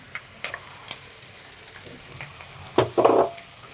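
Ground coriander paste goes into a hot pan and begins to fry: a few scattered taps and clinks, then a short burst of sizzling near the end, close and fairly quiet.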